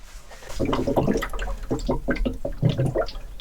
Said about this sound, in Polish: Słychać jak wypływa woda teraz pod przyczepę.